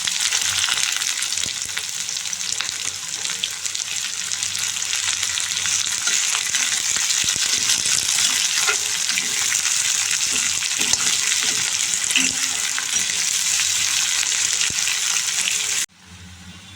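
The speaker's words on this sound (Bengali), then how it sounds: "এখন আমি দিয়ে দিব কেটে রাখা কুচানো পেঁয়াজ।" Chopped onions frying in a pan of hot oil with whole cumin, garam masala and bay leaf, a loud continuous sizzle with occasional stirring scrapes that ends abruptly near the close.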